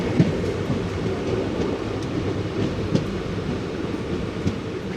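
New Santragachi to Digha passenger train running on rails, a loud continuous rumbling roar with faint rhythmic clicks of wheels over rail joints, heard from close by.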